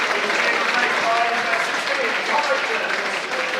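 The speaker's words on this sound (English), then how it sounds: "Homer Holness coming off to a good round of applause" At a football match between Bath City and Welling United, the crowd applauds a player leaving the pitch as a substitute, with steady mid-level clapping throughout and a commentator talking over it.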